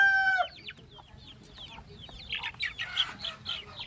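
Rhode Island White chicks in a free-range area cluck and cheep rapidly in many overlapping high calls, with a brief crow at the start, close and lively, with no talk.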